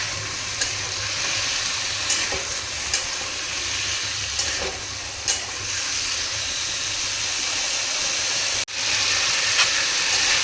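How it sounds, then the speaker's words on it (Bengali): Potatoes fry in hot oil in a pan until browned, a continuous close sizzle with soft scraping stirs now and then and one sharp clack near the end. "এরপর আলুগুলোকে ভালো করে লাল করে ভেজে নিন।"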